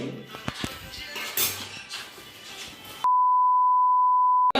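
A steady, loud single-tone censor beep cuts in abruptly after noisy background chatter and holds for over a second.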